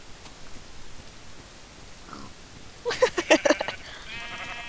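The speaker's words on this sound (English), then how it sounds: "I'll kill some sheep." A Minecraft sheep lets out a short, sharp bleat as it is struck and killed, following quiet background noise.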